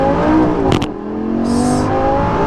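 A Lamborghini Gallardo LP550-2 engine revs hard in first gear, drops briefly through the shift to second, then pulls again at steady volume, close and loud with a short mechanical clack at the change.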